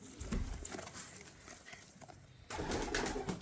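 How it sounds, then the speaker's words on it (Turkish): Young pigeons in a loft, with soft cooing and wing shuffles over a constant close background rustle, grainy and moderately loud throughout. "Alttakiler de uçacak yavrular."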